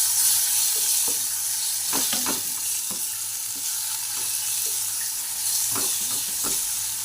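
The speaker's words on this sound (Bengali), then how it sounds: "হলুদ গুঁড়ো, পরিমাণ মতো দিয়ে একটু ভালো করে মিশিয়ে নেব।" Turmeric powder being mixed into a fish kofta curry in a sizzling pan: steady frying hiss throughout, with occasional scraping strokes of a spoon against the pan, close up.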